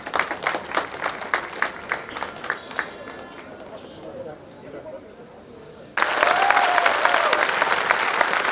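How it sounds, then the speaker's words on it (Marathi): Audience applause follows a classical vocal concert in Goa, rhythmic clapping fading into a quieter lull before a sudden loud, dense swell of clapping from the crowd. "गोव्यामध्ये पावसाचा आवाज जसा येतो तसा आता टाळ्यांचा आवाज येतो"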